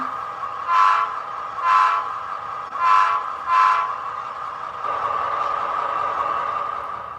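Four short, evenly spaced horn toots from a model train, followed by a steady sustained tone under constant motor hum.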